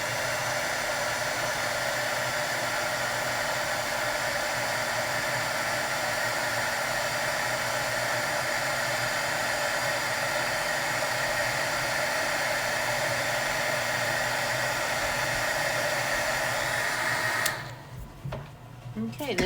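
A heat tool melting embossing powder on a card blows a steady, loud, broadband whooshing roar for about seventeen seconds, then clicks off, leaving quieter room sound.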